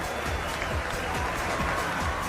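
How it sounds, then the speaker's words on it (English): Steady dense roar of a large crowd cheering and clapping for Celine Dion's homecoming, a continuous wash of applause with no breaks. "There were thousands of people cheering on Celine that were happy to see her back."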